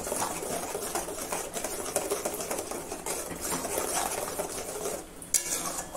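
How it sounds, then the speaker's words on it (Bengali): Spices are stirred by hand into yogurt for a Bengali doi fish dish, giving a steady scraping and swirling of a utensil through the mixture, close and continuous with a small clink near the end. "মশলাগুলো আস্তে আস্তে নেড়ে নেড়ে দইয়ের সাথে আমি মিশিয়ে দেবো এইভাবে।"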